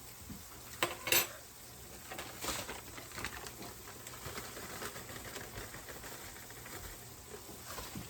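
A metal fork clinks and scrapes against a pan of sweet and savory bread pudding, a few sharp taps early on, then quieter soft scraping in a hushed kitchen.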